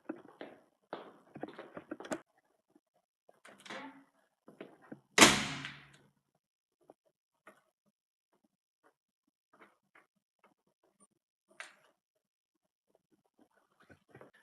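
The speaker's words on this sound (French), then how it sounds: "Et j'aimerais surtout aller fermer la porte." An indoor door swings shut with one loud, solid thud midway, surrounded by faint shuffling, rustling and small knocks in an otherwise quiet room.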